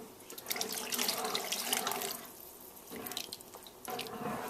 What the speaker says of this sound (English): I'm going to add the other cup of water.